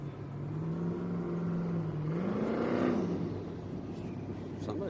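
A turbocharged Corvette at a grudge drag racing event accelerates hard, its engine tone rising and swelling as it passes nearby, then fading into a rumbling background, with crowd noise underneath.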